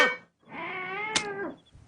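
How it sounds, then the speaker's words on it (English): A cartoon cat from The Simpsons gives a short cry, then after a pause a long, drawn-out whining meow with a sudden clack partway through; it is clear and alone, with no talk. "Homer, is that the cat?"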